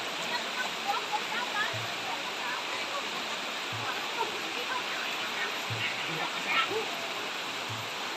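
A wide river at Manambulan, Toril, Davao City rushes steadily in a constant, loud broadband wash, with a few low thumps from the bank.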